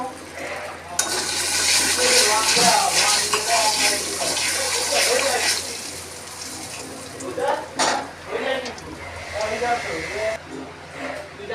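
Mustard seeds hit hot oil in a wok, giving a loud, sustained sizzling hiss that fades after several seconds, with a voice speaking over and after it.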